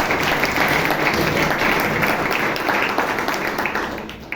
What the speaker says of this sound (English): please give Saloni and Karnakar a big round of applause